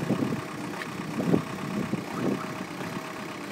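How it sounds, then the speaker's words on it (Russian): A Skoda diesel car idles at a used-car market with a low, uneven rumble. The engine runs in jerky surges that rise and fall every second or so. "Послушаем, как работает Шкода дизель."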